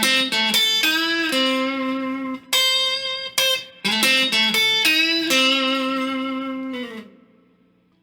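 Electric guitar plays a sweet blues lick in C built on the major pentatonic scale, using hybrid picking, with bent and sustained notes in a clear, close phrase that rings out and fades at the end.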